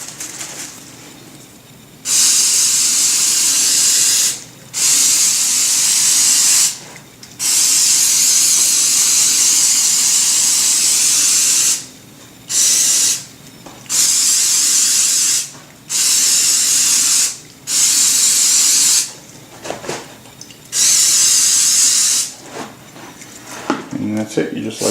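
Protector coat sprayed onto a suede leather cowboy boot in a series of loud, close aerosol hisses, roughly nine bursts of a few seconds each separated by short pauses.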